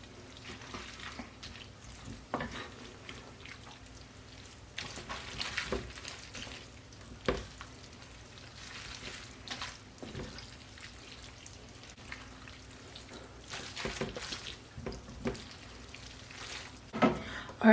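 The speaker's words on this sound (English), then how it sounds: "And I'm gonna add back in my pasta noodles." Pasta noodles and spinach stirred in a pan for tomato feta pasta, with a soft continuous sizzle and scattered scraping taps of a utensil against the pan, no talk.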